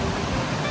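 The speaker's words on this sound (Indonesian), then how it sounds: "suara yang terdengar saat batuan di pantai tersapu oleh ombak" Waves washing over stones on a rocky beach, a steady loud broadband rush of surf and churning water with no distinct breaks, close and continuous.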